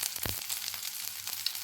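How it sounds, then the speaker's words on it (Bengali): Pre-boiled potato pieces hit hot oil in a pan and give off a steady, close sizzling hiss with a faint thump as they land. "তেল গরম হয়ে গিয়েছে। আমি এখন এর মধ্যে নিয়ে নিচ্ছি আগে থেকে সেদ্ধ করে রাখা আলু"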